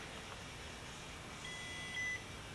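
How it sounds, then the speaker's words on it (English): A short electronic beep from a Promatic receiver being programmed with a magnet rings out near the end over a steady low hiss, a single brief tone. "So just pay attention to the beeps."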